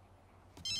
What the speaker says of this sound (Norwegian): Oi, nå ringer telefonen din.